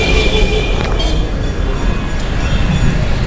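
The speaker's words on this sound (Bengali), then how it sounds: "এই দেখো সামনে আছে ট্রাম, অনেকক্ষণ পরে দেখলাম যে ট্রাম আসছে" A Kolkata tram rolls along street rails, a loud, close, continuous rumble with metallic wheel squeal and rattle.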